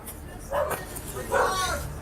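Two dogs barking inside a house, muffled bursts heard through a door or garage at moderate distance, with faint voices in the background.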